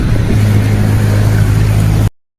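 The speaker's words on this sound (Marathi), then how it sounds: "वारा बघा, एकदम अचानक वारा आहे" Sudden strong wind outdoors roars as a loud, steady rush close to the microphone, with no talk, then cuts off abruptly.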